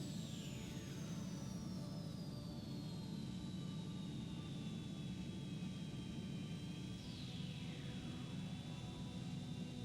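A fighter jet's engine drones steadily in Ace Combat 3 Electrosphere, with a constant roaring rumble and faint whining pitch sweeps sliding downward.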